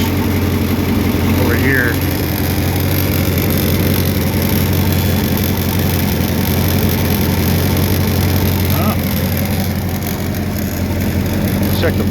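A Ford Thunderbird engine idles loudly and evenly up close in a steady low rumble, with someone speaking briefly over it.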